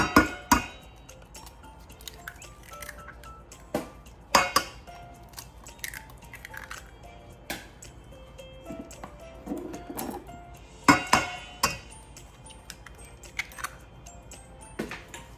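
Three eggs cracked into a bowl of mashed ripe avocado and sugar for 1970s avocado bread, heard as sparse clinks and taps of shell and utensil against the bowl with quiet pauses between.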